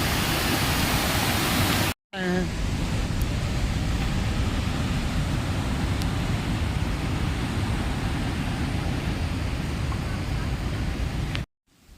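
A waterfall on the mountain trail from Gaurikund to Kedarnath, a loud constant broadband roar of rushing water that fills the whole clip, broken by two brief cuts to silence.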